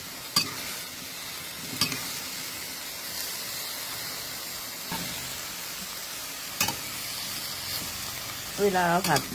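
Vegetables stir-fried in a pan on a home stove after the gas is turned off, giving a steady soft sizzle with several sharp scraping clacks of a spatula against the pan and a rattle of stirring near the end.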